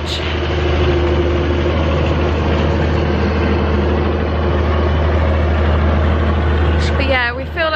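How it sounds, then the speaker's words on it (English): Huge beach-sweeping tractor rumbling steadily behind, a loud low idling engine drone running throughout, with a voice speaking over it. "There's a huge tractor behind me. Just sweeping the beach."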